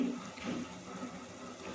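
Quinoa seeds rinsed under water in a home kitchen, a faint, steady rush and swish of running water lasting throughout, with no voices.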